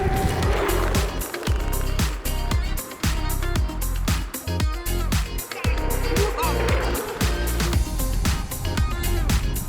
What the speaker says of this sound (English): The tyre noise.